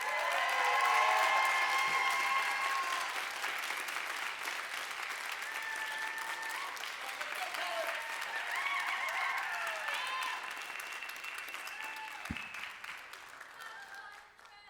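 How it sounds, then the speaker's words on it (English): A poetry slam audience at a live spoken word event breaks into sustained applause, with clapping and scattered cheers and whoops that swell early, hold, then gradually thin out. "Clap it up for Annika."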